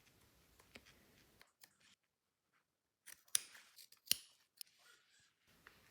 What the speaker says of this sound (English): Carefully cut along the stitching of the seam, stopping 1 cm before the end as before